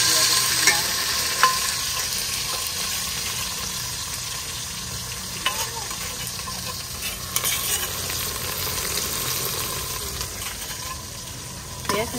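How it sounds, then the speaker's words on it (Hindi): Masala paste frying in hot ghee gives off a steady, even sizzle that holds for the whole stretch, with a few faint clinks of stirring and no talk. "घी हमारा गरम हो चुका है, अभी जो है मैं पेस्ट डालना शुरू कर दिया"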